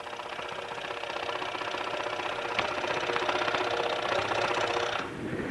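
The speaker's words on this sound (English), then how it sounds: "as we cut, I'm going to hold this firmly down, and then just let the blade work" Scroll saw blade cutting through material, a steady rapid buzzing chatter from the reciprocating blade, close and continuous, easing off slightly near the end.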